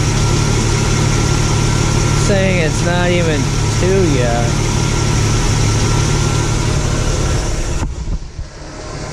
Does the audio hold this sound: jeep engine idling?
yes